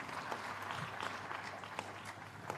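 Faint, distant applause from the audience in a hall during a university convocation ceremony, a steady patter of many hands with scattered sharper claps.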